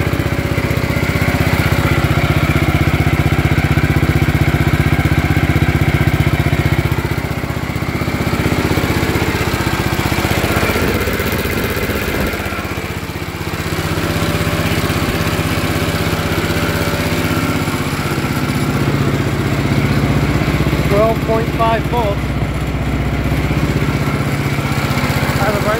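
A long-neglected Gravely 814 walk-behind tractor engine runs steadily and loudly near at hand, a constant mid-pitched drone that dips briefly before settling back to a continuous idle.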